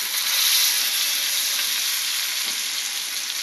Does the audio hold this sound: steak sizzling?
yes